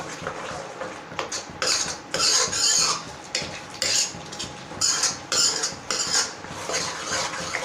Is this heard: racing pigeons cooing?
no